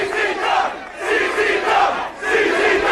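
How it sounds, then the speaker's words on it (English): A large crowd at a hardcore wrestling tournament roars and chants in loud, continuous waves that swell and dip, filling the space with no single voice standing out. "Look at this crowd, John. Listen to this crowd."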